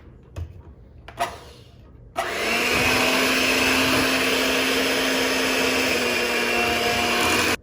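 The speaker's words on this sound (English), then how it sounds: "So let's mix it in again a bit before we start to do the final stir." An electric mixer beats Skor Bar cake batter. After a couple of knocks it starts up, whirring loudly and steadily at close range for about five seconds before it cuts off.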